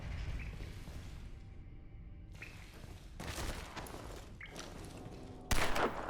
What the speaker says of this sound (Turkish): Oo, silah sesi.